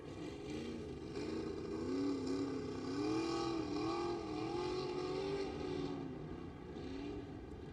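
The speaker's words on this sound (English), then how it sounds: "A lot of trucks out on course." Pro 2 off-road race trucks at the Crandon World Championship track roar steadily around the course, several engines droning and rising and falling in pitch as they pass at middle distance, with no voices over them.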